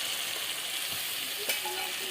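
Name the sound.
ginger added to frying onions, sizzling in oil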